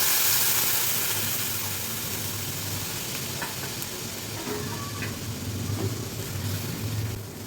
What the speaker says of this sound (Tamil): இப்போ நம்ம பால் ஊற்றிக்கலாம்.